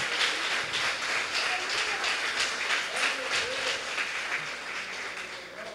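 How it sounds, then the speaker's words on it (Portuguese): A church congregation applauding, a broad wash of clapping with a rhythmic pulse, gradually thinning toward the end, moderately loud and mixed with faint voices. "Aplauda ao Senhor em nome de Jesus"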